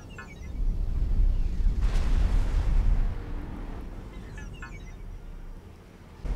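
Starship broadsides boom in the space combat game X4, a heavy rumbling blast swelling over a couple of seconds and then settling into a lower roar, with faint crackling bursts at the start and near the end.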